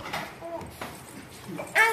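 A dog at a Telangana Bonalu festival gathering gives a few short yips and whimpering barks, fairly close. The sharpest one comes at the end, with people talking nearby.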